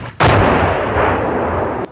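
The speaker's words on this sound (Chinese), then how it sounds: "又有炮弹落在前方不远处，炮击声很快变得密集。" Artillery shelling near Bakhmut erupts as a loud, close blast followed by a long, rumbling roar that holds for over a second and a half, with no voices.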